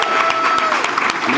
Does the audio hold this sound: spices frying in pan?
no